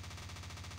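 Akimbo pair of overheated video-game guns firing in a fast, steady burst of rapid repeated shots, loud and continuous for under a second with no talking.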